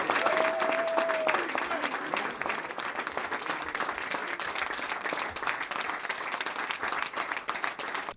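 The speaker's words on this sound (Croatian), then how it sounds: "jedan aplauz za njih" An audience applauds a newly named deputy county prefect and colleagues at a Dalmatian political gathering, with dense, steady clapping that fills the room from start to finish, loud and sustained with a brief tonal whistle early on.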